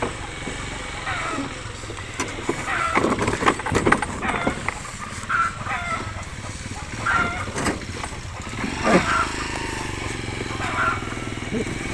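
A Honda Beat scooter engine idles and revs unevenly while its wheel spins, with people talking nearby over the mechanical hum.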